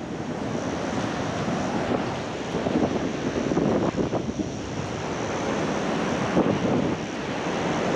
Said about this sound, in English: So, going in the ocean.